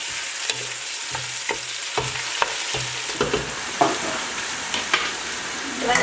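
Onions sizzle and fry in hot oil for gongura chicken, with steady crackling under repeated scraping stirs of a utensil in the pan, close and fairly loud, no voices.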